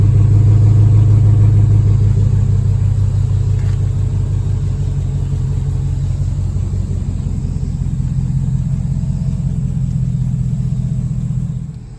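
The Hemi V8 of a second-generation Dodge Durango SUV idles with a loud, close, deep rumble, holding a steady low drone for the full stretch after a slight drop in pitch early on.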